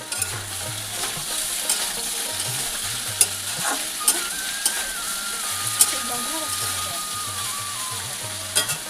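Snake gourd and potato pieces frying in a pan, a continuous sizzle with regular scraping stirs of a spatula and occasional sharp clinks against the pan.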